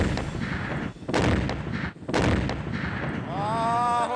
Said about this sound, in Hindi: एक धमाका होता है और ये इमारत जमीन दोज हो जाती है।